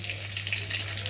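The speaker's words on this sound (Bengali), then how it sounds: "মাছগুলো 2 পিস বেশ সুন্দর করে লাল লাল করে ভেজে নিয়েছি।" Live fish fry in hot oil, giving a dense, continuous sizzle with small crackling pops, close and fairly loud, with a low steady hum underneath.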